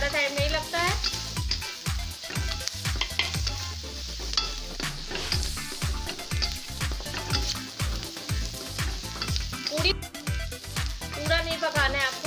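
Onions and chopped carrots sautéing in a pan for white sauce macaroni, a steady sizzle with stirring scrapes heard under continuous background music and a speaking voice.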